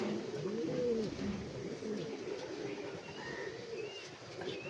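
Black Raj Gola pigeons give soft, low cooing calls in a loose repeating rhythm, faint and close against a quiet background hum, with a few thin higher chirps from other birds.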